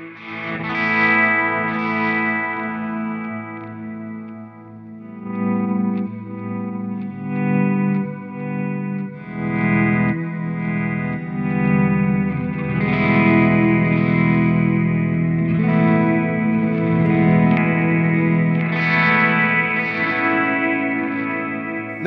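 Heavily distorted electric guitar through a Harley Benton DNAfx GiT multi-effects processor's Attack preset, chords ringing and sustaining in bursts, loud and saturated, no talking.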